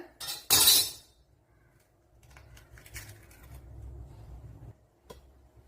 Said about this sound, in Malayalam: ഇതിലേക്ക് ഒരു മുട്ട പൊട്ടിച്ചൊഴിച്ചു കൊടുക്കാം